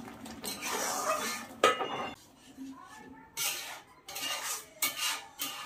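A spoon scrapes and clinks in a pot while thick mango pulp for aamsotto is stirred, in uneven bursts with short pauses between strokes, close to the microphone.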